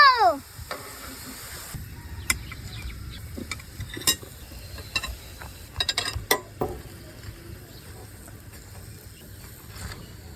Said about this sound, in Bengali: বাকিগুলো এবার সুন্দর মতো ভেজে নিব